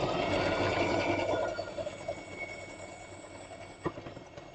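A sewing machine stitching quilt patches together for a nine-patch square, a fast steady mechanical whir close by that slows and fades after a couple of seconds, then a soft click.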